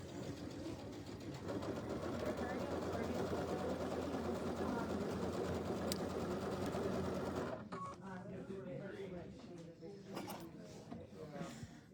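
A sewing machine runs steadily for about seven and a half seconds, a continuous mechanical whir, then stops while people talk nearby.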